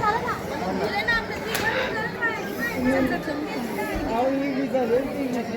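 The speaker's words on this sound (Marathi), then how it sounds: "आता गर्दी वाढते" Dense crowd chatter fills the area outside Tulja Bhavani temple in Tuljapur at dawn, many overlapping voices including children, steady and close all around.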